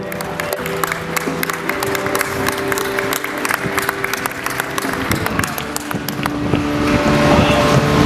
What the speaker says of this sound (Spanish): Fuerte aplauso para los gallegos de Perillo.